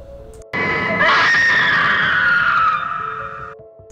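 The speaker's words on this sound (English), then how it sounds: "If that blood-curdling scream from Barbara did not scare the pants off you" A woman's loud, sustained blood-curdling scream from a classic Doctor Who episode, rising sharply and holding for about three seconds before fading out.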